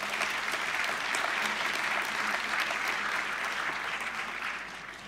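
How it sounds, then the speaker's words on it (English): Conference audience applauding after a talk on serverless WebAssembly, a broad sustained round of clapping from a sizable crowd in a hall, even and continuous before fading near the end. "Let's give Kate a huge round of applause, everyone."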